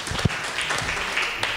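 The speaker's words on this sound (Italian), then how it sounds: "Quindi facciamo un applauso" Audience applause at an evening regional artists' event in Soveria Mannelli, Italy, a brief burst of close, loud clapping from a crowd, fairly steady across the moment.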